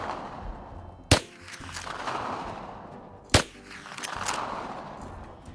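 Two sharp, loud shots from a lever-action .357 rifle fired at a bobcat outdoors, about two seconds apart, each snapping close by and followed by a brief echo, with no talking.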